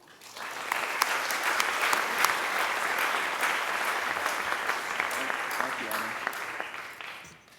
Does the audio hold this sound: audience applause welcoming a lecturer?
yes